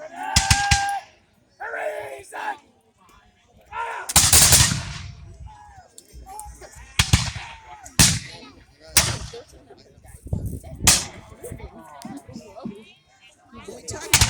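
Muskets and rifles fire at a Revolutionary War reenactment, sharp loud cracks and booms scattered irregularly, some near and some distant, with people talking over and between the shots.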